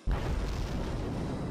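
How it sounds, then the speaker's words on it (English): Cannon fire from enemy ships in the space game Infinite Space, a deep booming blast that starts abruptly and rolls on as a sustained low rumble, loud and close, with no voices. "And now they're firing on us."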